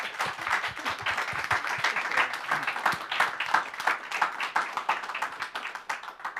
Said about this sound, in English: I want to ask for a round of applause for all of our speakers today.